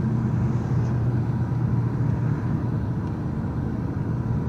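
A car drives along a residential street in the Mar Vista area, heard from inside as a steady, low engine and road rumble that holds even throughout, with no talking.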